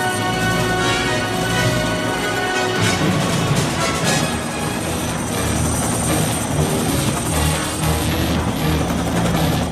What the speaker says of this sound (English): there's some just great helicopter stunt work in this film in general